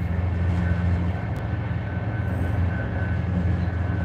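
Interior of a fast-moving passenger train running around 200 km/h, a loud constant rumble and rushing roar with a low steady drone, nearly uniform throughout with no voices.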